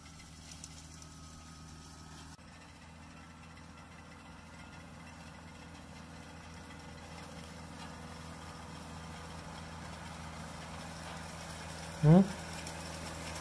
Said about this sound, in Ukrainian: Красивий тракторець який.